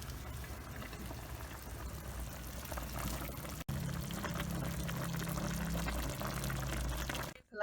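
Water poured steadily into a cooking pot of adobo chicken made with brown sugar and apple cider, a continuous close splashing rush lasting several seconds and stopping abruptly at the end.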